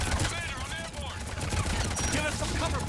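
Gunfire from the video game Mass Effect 3, a dense, continuous barrage of shots and impacts running the whole stretch at steady loudness, with game voices and effects mixed in.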